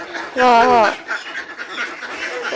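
Ducks quack loudly in a short harmonic burst as they are let out in a rural village, followed by fainter calls, with people talking nearby.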